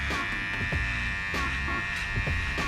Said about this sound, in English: now we're going to use our cordless Wahl detailer LI to get the hair nice and tight